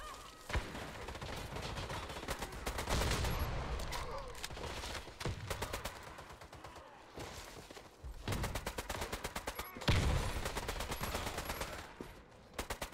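Rapid bursts of STK CMCR automatic gunfire in the shooter game Warface, loud and close, firing in repeated sprays with short pauses between them and no talking.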